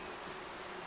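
Bees buzzing near a nest in the woodland survival game Among Trees, a faint, steady drone with no talk over it.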